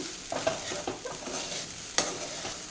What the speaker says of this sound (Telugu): మిక్స్ చేసుకుందాం.